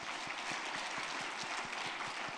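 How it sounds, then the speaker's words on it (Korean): A church congregation claps in encouragement, a dense, even patter of many hands with steady rhythmic beats, continuous for the whole stretch at moderate distance. "격려 박수 부탁드립니다"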